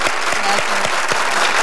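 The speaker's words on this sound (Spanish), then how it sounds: "Un aplauso." Studio audience applause for a singer on a TV show, a short loud burst of dense clapping with a few sharper individual claps standing out.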